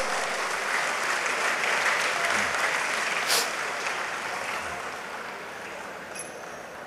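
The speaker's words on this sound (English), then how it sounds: "Let's give a clap to all of us." Steady applause from a dinner audience at a political fund-raising event in Sarawak, a dense, even clatter of many hands that holds for about seven seconds and slowly tapers off, with no talk over it.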